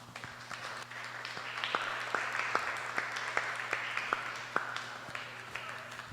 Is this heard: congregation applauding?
yes